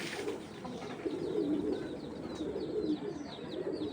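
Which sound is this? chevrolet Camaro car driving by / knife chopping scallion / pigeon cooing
pigeon cooing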